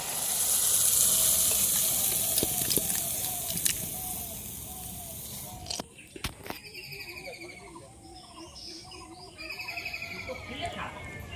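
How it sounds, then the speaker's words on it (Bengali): A clay stove fire roars fiercely with a loud, rushing hiss that slowly fades, followed by quieter crackles and birdsong in the background while a person talks over it. "দাউ দাউ করে উনুন জ্বলছে"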